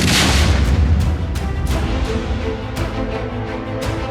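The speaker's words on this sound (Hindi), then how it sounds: "ये पहला धमाका, ये दूसरा धमाका, ये तीसरा धमाका और ये चौथा।" Repeated booming blasts from security forces' final assault on militant hideouts in Kokernag, Jammu and Kashmir, with explosive-laden drones; loud continuous rumble with several sharp bursts recurring about every second, no talk.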